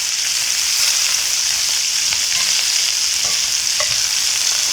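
Beef pieces for a Filipino beef mechado sizzle in a hot pan as they brown, a steady bright frying hiss with occasional stirring scrapes, close and continuous without talk.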